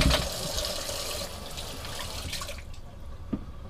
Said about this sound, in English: I'll give these a quick rinse down